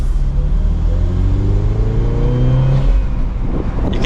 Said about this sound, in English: You can hear that turbo a little bit when you let off.